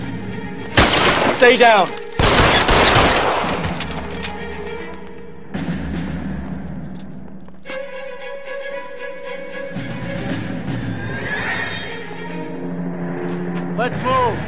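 Gunfire erupts in the L.A. Noire video game, loud bursts of shots and shattering early on, then gaps filled with mechanical noise and a voice speaking over the action.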